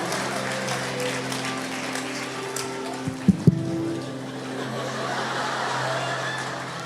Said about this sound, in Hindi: All the men who are clapping